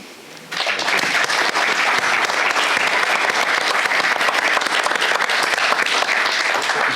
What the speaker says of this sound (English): I would like a round of applause for you, for the organization, and for the panel members.